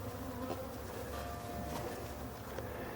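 Honeybees buzz densely around an open hive, a close, continuous droning hum with individual bees zipping past, no voices.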